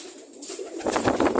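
Pet pigeons coo close by, a soft throaty call swelling into a louder rolling coo in the second half.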